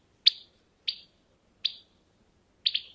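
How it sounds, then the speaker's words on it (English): A recorded house wren gives four sharp, high alarm notes spaced about half a second to a second apart, each a brief harsh burst that fades quickly, the last one doubled, heard clearly against a quiet background. "another recording of a house wren alarm that's more like the typical wren alarm"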